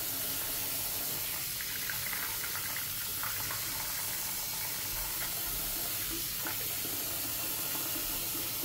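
Water runs steadily from a tap while a silicone reborn doll is bathed, giving a constant close splashing hiss with no speech.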